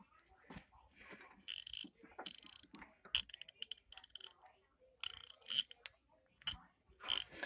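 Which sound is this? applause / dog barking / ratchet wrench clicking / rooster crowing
ratchet wrench clicking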